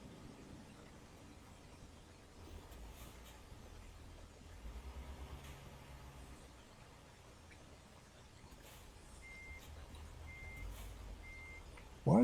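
Steady reversing beeps from a truck in American Truck Simulator, a faint evenly spaced electronic tone over a low engine rumble, coming in late and repeating several times before a sudden louder burst at the end.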